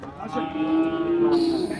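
A single long, low moo from a nearby crossbred cow at a cattle sale, sustained and steady for well over a second with no talking.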